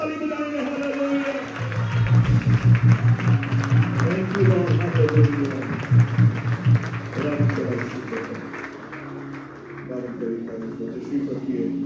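A church congregation claps with joy during live worship, a steady loud rhythm of hands that swells and fades over the clip, with people speaking and calling out above it.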